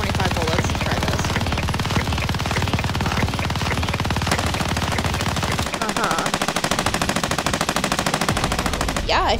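A video game machine gun with a 125-round magazine fires long sustained automatic bursts, rapid and loud, close and continuous.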